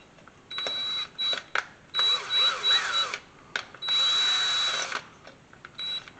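Self-tapping screws driven into the fuel neck of a 1983 C30 truck with a power driver: several close whirring bursts of a second or so each, separated by short pauses, with a thin steady whine riding on top.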